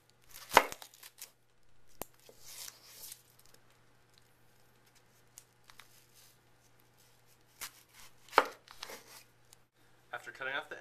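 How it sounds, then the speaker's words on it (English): An onion being cut with a knife, the ends sliced off and the peel removed: sparse crisp cuts and peeling rustles in small bursts with pauses between, close and quiet. "the next cut we're going to learn is a chop, and we're going to use an onion for this"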